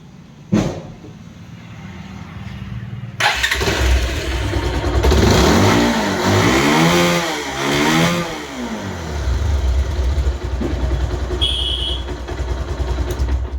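A Bajaj Pulsar 220 motorcycle with about 91,000 km on it, in for engine work, coughs into life after a click, then runs loud and close, revving up and down before settling into a steady, rough idle.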